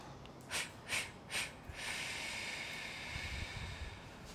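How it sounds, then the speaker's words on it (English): Three soft breathy puffs, then a long, steady whistling exhale through pursed lips, close and quiet. "Make a little whistling formation with your mouth, and it'll sound like this."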